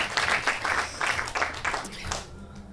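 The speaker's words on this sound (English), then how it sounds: "Let's give Dr. Luke a round of applause, please." An audience claps for Dr. Luke in a studio setting, a moderate burst of applause with uneven rhythm that thins out and fades toward the end.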